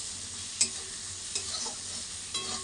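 Steady hiss of frying in a kadai with salted rohu fish and spices, broken by three sharp scrapes of stirring spread across the span, close and moderately loud with no talk.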